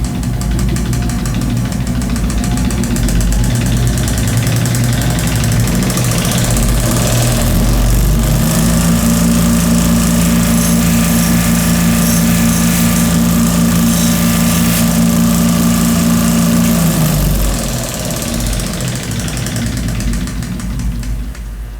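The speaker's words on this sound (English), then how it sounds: "Let the belt get to speed." A belt sanding machine on a multi-tool refinishing station runs steadily while a golf club head is refinished, giving a loud, continuous motor drone with a pitched hum that rises partway through and then drops back.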